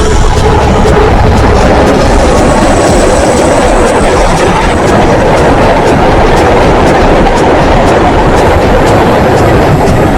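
A model railway train rolls past hauling tanker wagons: a loud, continuous rumbling roar with a steady rhythmic clatter of wheels on track, close and unbroken throughout.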